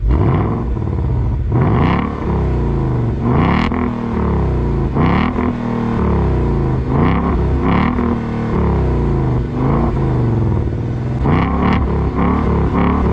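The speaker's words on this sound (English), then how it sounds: "the Mustang GT to me is one of the nicest sounding V8s" A Ford Mustang GT V8 revs and accelerates through several gears, each pull rising in pitch then dropping at the shift, loud and close with a deep, burbling exhaust throughout.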